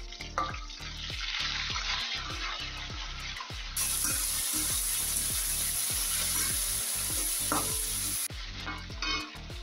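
Mint leaves frying in a hot pan for coconut chutney, a loud steady sizzle and crackle with scraping stirs and clinks throughout, close and continuous.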